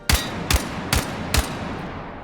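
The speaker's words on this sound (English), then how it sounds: "let's go with like a light machine gun" Light machine gun in Battlefield 6 fires four loud, separate shots at roughly even intervals on a target range, each crack sharp and close, with no voices.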